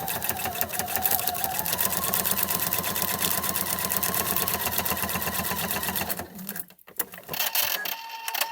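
A sewing machine stitches a seam in quilting fabric with fast, even mechanical clatter for about six seconds, then stops, leaving a few quiet handling sounds.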